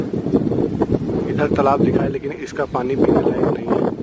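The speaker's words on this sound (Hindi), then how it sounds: "हवा बहुत ज़ोर से चल रही है" Strong wind in a jungle buffets the microphone with a steady rough rumble under someone talking throughout.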